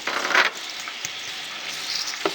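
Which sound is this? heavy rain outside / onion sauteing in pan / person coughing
onion sauteing in pan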